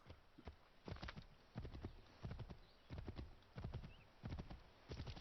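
Steady, rhythmic clip-clop of horse hooves trotting along at an even pace in Assassin's Creed 3 Remastered, fairly close, with no talking over it.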